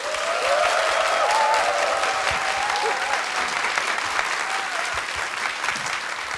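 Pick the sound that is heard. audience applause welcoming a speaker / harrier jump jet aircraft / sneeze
audience applause welcoming a speaker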